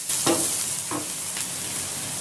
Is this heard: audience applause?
no